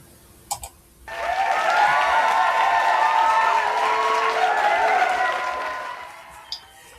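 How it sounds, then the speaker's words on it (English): Cheering crowd played as a sound effect, a loud, full roar of many voices that swells in suddenly after a couple of faint clicks, holds steadily for several seconds, then drops away. "And the crowd goes crazy."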